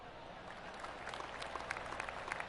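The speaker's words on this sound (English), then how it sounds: "Oh, golf clap." Polite golf clap from a gallery crowd in a PS5 golf video game, a faint, scattered patter of hands that builds slightly, with soft crowd murmur underneath.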